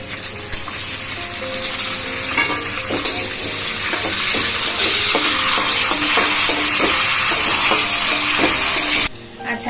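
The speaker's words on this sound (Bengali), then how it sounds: "এবার দেখো কাজু কিশমিশটা হালকা ভাজা হয়েছে" Cashews and raisins fry in oil for pulao with bay leaf, cinnamon, cardamom and cloves, producing a loud, continuous sizzle with repeated scraping stirs that stops abruptly near the end.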